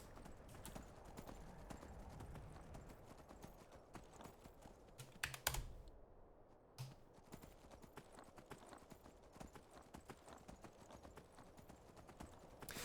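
A horse in Skyrim trots along with steady clip-clopping hooves over uneven rocky ground, interrupted by a brief jump and landing, with faint keyboard tapping close by.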